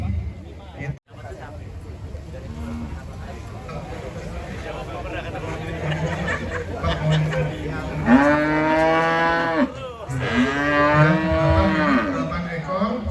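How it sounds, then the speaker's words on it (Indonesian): Cattle at a livestock contest in Lampung, Indonesia moo loudly nearby, two long low calls near the end, over a steady background of murmuring voices and outdoor noise. "Sebelah kanan Bapak ada beberapa sapi."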